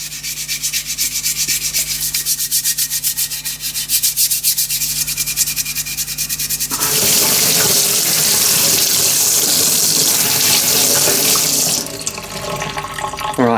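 Water streams from a hose or tap onto a metal part being rinsed before powder coating, a loud continuous hiss and splash that grows stronger partway through.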